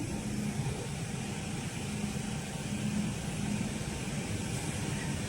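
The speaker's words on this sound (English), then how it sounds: "The machine can work very stable, and its speed is 50 pieces 1 minute." An automatic KN95 mask-making machine with five servo motors and three stepper motors runs at about 50 pieces a minute, giving a steady, even mechanical hum with a faint rhythmic cycling and no voices.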